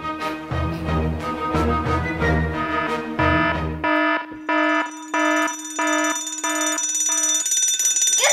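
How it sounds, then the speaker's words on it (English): A toy fire truck's electronic alarm in firefighter pretend play sounds loud and close, a run of bright, repeated beeping tones that shifts into a steadier pulsing siren pattern, with no talking. "there's an alarm and I don't know how to defeat it"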